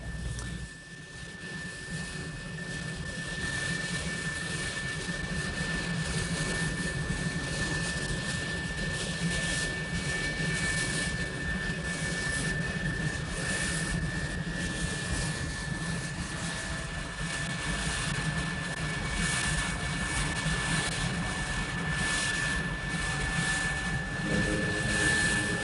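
An F-4 Phantom jet in Vietnam War combat footage flies overhead with a steady, roaring engine noise that holds loud and constant for the whole stretch, with no voices.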